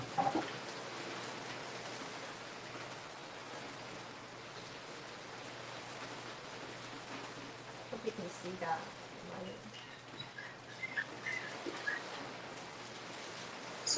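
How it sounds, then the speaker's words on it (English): Heavy rain pours down outside during an indoor block-printing craft session, a steady broadband hiss heard from inside at a moderate level throughout, with faint voices and small knocks now and then. "The rain's really coming down right now."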